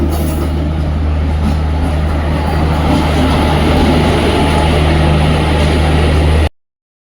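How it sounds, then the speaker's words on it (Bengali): Loud, steady rumble of a train arriving close by at a station, with continuous wheel and engine drone that cuts off abruptly near the end. "ট্রেন চলে এসেছে"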